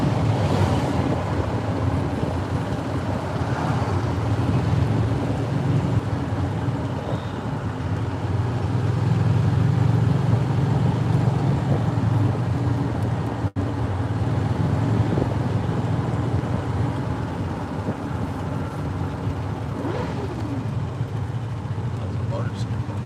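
A golf cart rides along a road in The Villages, Florida, with a steady low rumble and heavy wind buffeting the microphone throughout, briefly interrupted by a short dropout midway.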